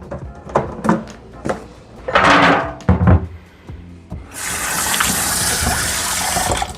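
Water running from a tap to rinse raw beef liver in a kitchen sink, starting with several short splashes and bursts and then settling into a continuous, fairly loud gushing stream.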